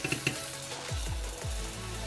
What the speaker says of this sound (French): l'huile chauffe assez, donc on va passer à la friture